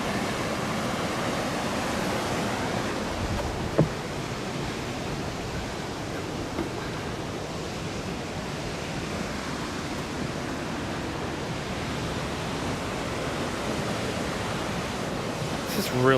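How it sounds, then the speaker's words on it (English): River rapids and a waterfall rush in a steady, broad roar that runs continuously outdoors, with a faint thump or two and no talk. "That's like a second Rapids waterfall over there."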